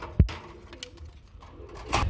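Lotan pigeons coo close by in two short bursts, one near the start and one at the end, with quiet room noise between and no talking.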